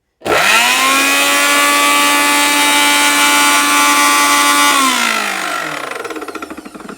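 A Miyako mixer grinder blender whirs loudly at high speed, starting abruptly, holding a steady high-pitched motor whine, then winding down with falling pitch and a rattling spin-down near the end.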